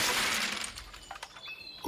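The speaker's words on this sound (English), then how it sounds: "Golem smashed the Jenga tower again." A Jenga tower is smashed, giving a loud crash at once that breaks into scattered clattering pieces and fades, with a last sharp knock at the very end.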